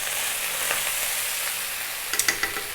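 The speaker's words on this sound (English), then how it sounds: "That's your rice frying." Chicken fried rice frying hard over high heat, a dense continuous sizzle with a few sharp scraping stirs near the end, close and clear with no talking.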